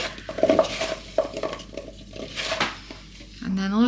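Broccoli stems being tossed with salt by hand in a bowl, giving soft rustling and rubbing with a few clinks against the bowl, moderately close, and a short voice near the end.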